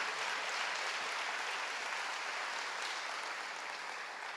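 A congregation at a church service applauds strongly, a dense, steady wash of clapping that holds evenly throughout with no talking over it.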